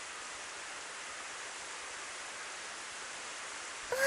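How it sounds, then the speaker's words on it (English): Pouring rain in the visual novel Clannad, a steady, even wash of dense rainfall holding constant throughout, with a small bump in level right at the end and no talk. "Oh, that can't be fun, not in the pouring rain."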